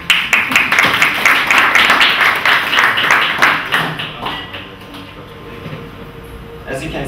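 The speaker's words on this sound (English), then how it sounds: "applause" An audience at a design festival presentation breaks into dense applause that fades after a few seconds, leaving sparse scattered claps and some room noise.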